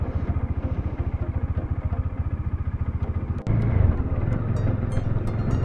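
A motorcycle loaded with luggage rides along a road between Maredumalli and Gudisa, its engine thrumming in a fast, steady pulsing beat, then a louder, rougher rush of engine and wind noise takes over.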